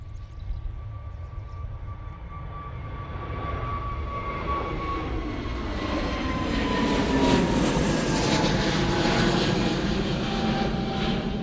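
An airliner takes off at Manchester Airport, its engine roar swelling steadily from a distant rumble into a loud, broad sustained thunder as it climbs away.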